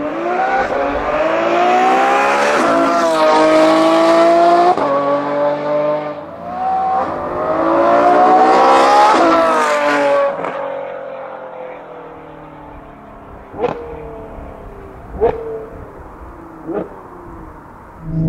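Ferrari F12 V12 engine revving with its exhaust valves open, two long loud climbing roars followed by a lower idle and several sharp blips, heard alone without talk.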